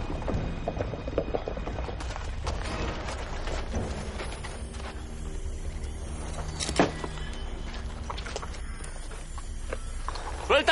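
Galloping horses pound out rapid hoofbeats in a busy, noisy action scene, the clatter running continuously with voices and other commotion mixed in.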